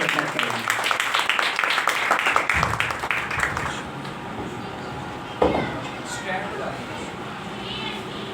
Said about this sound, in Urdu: زوردار تالیاں خدا کے خادم کے لیے